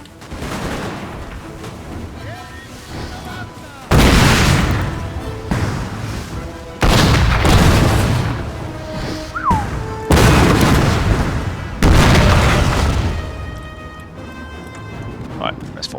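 Cannon artillery fires in Napoleon: Total War, heard as a series of heavy booms roughly every few seconds, each a loud, sharp blast with a rumbling tail, with scattered musket fire and battle noise between them.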